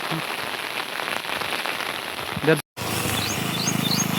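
Heavy rain falls without pause, a dense, even patter on surfaces that stays loud throughout, broken only by a brief cut near the end.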